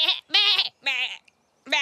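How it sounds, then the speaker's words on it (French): Sheep bleat several times in quick succession, loud and close, each call wavering and nasal with short pauses between, and no other sounds around them. "Je devrais peut-être essayer de leur parler en mouton."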